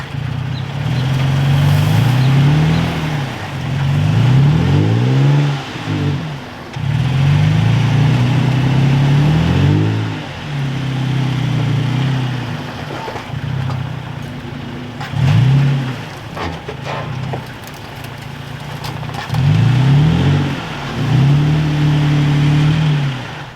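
A Nissan Frontier PRO-4X pickup revs hard while backing up off-road, its engine note repeatedly rising and falling in loud surges with brief dips between pushes, close and steady throughout, with no voices.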